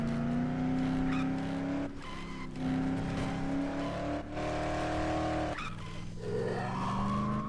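Cars race through the streets in Dead Island, loud engines droning and shifting pitch while tires skid and squeal repeatedly, with several sharp gear changes across the run.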